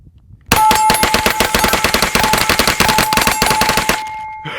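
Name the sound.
rapid fire shots from FG-15 rifle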